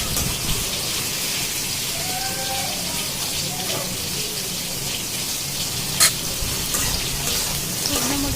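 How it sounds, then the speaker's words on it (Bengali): Dried red chillies frying in hot oil while dried fish (shutki) is cooked, giving a steady, fairly loud crackling sizzle throughout with a brief sharp pop near the end. "শুকনো মরিচ দিয়ে ভেজে নিলাম।"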